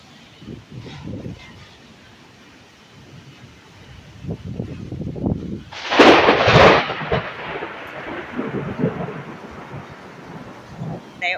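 Thunder rumbles during a Texas thunderstorm with straight-line winds and rain, low rolling rumbles building to a loud, close crack and roar midway, then fading back to a deep grumble.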